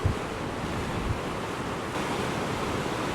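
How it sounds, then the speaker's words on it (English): Waves surge and break on the rocky Orkney coast on a windy day, making a steady close rush of surf with wind buffeting the microphone. "Just wait for the next big wave to come through."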